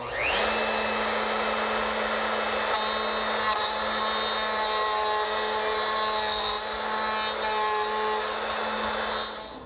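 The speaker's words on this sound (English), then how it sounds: "use my router with the same setup as before to clean it out" A router cleaning out a mortise in redwood runs with a steady high whine and a continuous buzzing hum, cutting without pause at close range.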